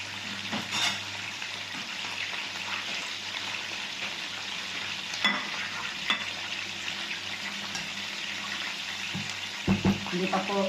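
Onion and tomato frying in a pan, a steady soft sizzle with scattered clatters of stirring, close by, while a person talks occasionally.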